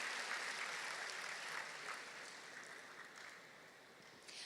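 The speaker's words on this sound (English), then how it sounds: "Give a big round of applause for these brave people here." Steady applause from a crowd, loud at first and fading slightly toward the end, with no voices over it.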